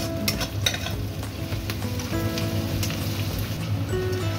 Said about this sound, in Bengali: পেঁয়াজগুলো সুন্দরভাবে ভাজা হয়ে গেছে দেখুন, আর রসুনটাও দিয়ে দিয়েছি এর মধ্যে, ভাজা হয়ে গেছে।